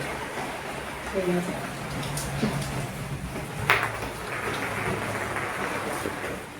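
Storm rain falls at night as a steady, close hiss, with a few brief knocks and thumps breaking through the constant patter.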